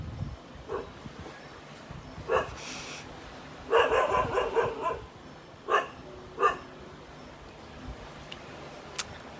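A dog barks in scattered bursts, some single barks and a quick run of several, moderately distant against a quiet, faintly hissy background.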